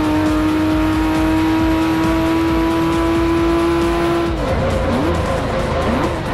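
A race car in the video game Forza 4 holds a loud, steady engine drone, then the pitch breaks and wavers in a collision, with scraping and revving continuing afterward.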